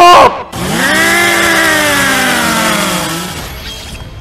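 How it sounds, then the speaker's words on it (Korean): A blood chainsaw revs in a Minecraft Chainsaw Man game, a loud, close, sustained motor whine that starts with a sharp burst, holds for about three seconds while its pitch slowly sinks, then fades out. "그렇게 준비된 피의 전기톱 이 전기톱에 썰리는 순간 마키마는 이제 더 이상 부활을 할 수가 없을 거예요"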